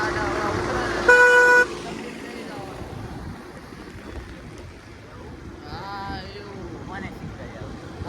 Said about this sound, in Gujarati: નાનો હોર્ન રાખવાનો જ નહીં, એક નંબર મોટો હોર્ન જ રાખવાનો